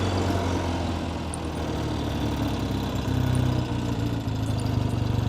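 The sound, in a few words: 1970 Triumph TR6R 650cc parallel twin motorcycle engine running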